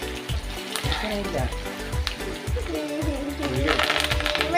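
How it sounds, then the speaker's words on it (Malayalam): Chicken lollipop pieces deep frying in hot oil, a steady loud sizzle and bubbling that carries through the whole stretch, close up with no talking over it. "ഇനി ബാക്കിയുള്ളതും കൂടി നമ്മൾ ഒന്ന് പൊരിച്ചെടുക്കാം"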